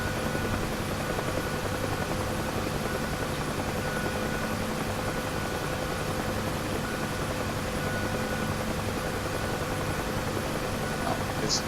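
A UH-1H Huey helicopter setting down at a runway threshold in the DCS flight simulator, a steady loud rotor and turbine drone with constant whine, unbroken and close throughout.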